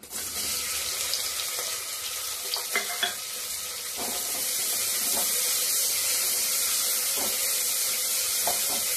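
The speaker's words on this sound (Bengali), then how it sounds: "হালকা পেঁয়াজটা ভেজে নিয়েছি" Chopped onion frying in oil with cinnamon, cardamom, cloves, black pepper and star anise, a dense hissing sizzle that swells and stays loud, broken by a few light clicks of stirring early on.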